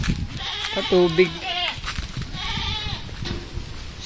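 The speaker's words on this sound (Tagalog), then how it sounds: "Daming kambing." Goats on a farm with a mango orchard bleat several times, wavering cries close by, while a person talks over them.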